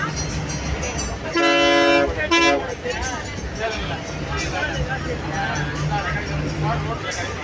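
Two loud horn blasts in quick succession ring out from a bus on the road between Pondicherry and Villupuram, followed by engine rumble and traffic noise while people talk nearby.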